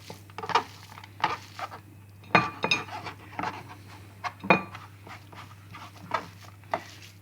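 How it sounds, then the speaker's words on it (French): A utensil mixes sliced onion and small bacon lardons in a bowl, giving a series of close, sharp clinks and scrapes at uneven intervals over a steady low hum. "Maintenant on doit mélanger tout."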